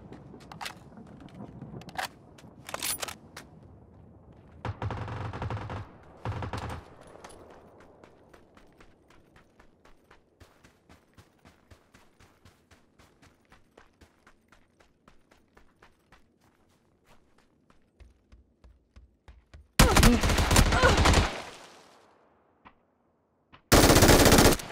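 Bursts of rapid automatic machine gun fire from the video game PUBG, loud and close, with several long volleys separated by quieter stretches of faster clicking shots and a final heavy burst at the end.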